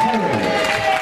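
Audience at a holiday camp contest applauding the ten lady contestants, a steady wash of clapping and crowd noise with a sustained tone and some voices mixed in throughout.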